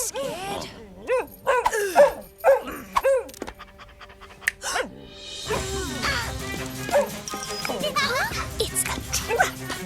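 Cartoon dog panting, yipping and whimpering in short bursts, followed by a crash and clatter, with animated voices speaking over parts of it.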